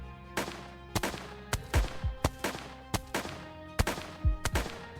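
Sharp gunshots ring out in an irregular sequence, single cracks and quick pairs with game-like echoes, fairly quiet and with no talking.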